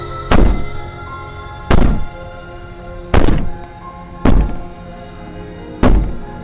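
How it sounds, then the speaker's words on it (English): Heavy, muffled thuds of someone banging on a door in the horror game Slay the Princess land one at a time at uneven intervals of a second or more, each one loud and booming. "Maybe the banging and wailing will stop if you just don't pay attention to it."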